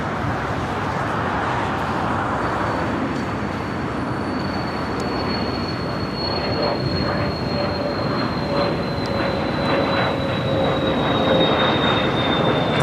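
An airliner roars on takeoff from runway 25 right at Los Angeles International Airport, a broad sustained jet rumble with a slowly falling whine, heard from a distance with no talk.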